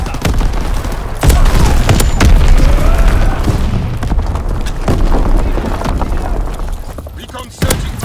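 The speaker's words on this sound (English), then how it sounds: "Enemy mortar fire incoming." Enemy mortar fire in Call of Duty WW2 lands in loud, heavy booms amid constant gunfire and battle noise, with several sharp impacts spaced across the stretch.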